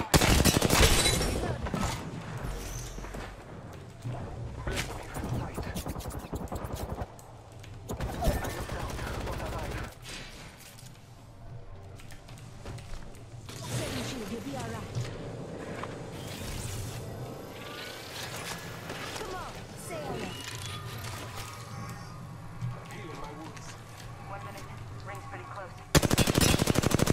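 Heavy gunfire in the battle royale shooter Apex Legends, loud bursts of automatic fire at the start and end with scattered shots and game noise between, and a voice speaking at times over it.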